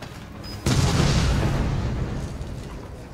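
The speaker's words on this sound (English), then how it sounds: "I love using the bomb. The bomb's so cool." A bomb detonates in Resident Evil 7 with a sudden loud blast and a long rumbling roar that slowly fades, no voices present.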